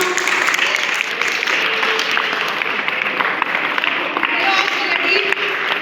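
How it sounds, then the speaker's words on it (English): Audience clapping for a correct answer at a school science quiz competition, a steady broad patter lasting throughout with faint voices underneath. "Clapping now."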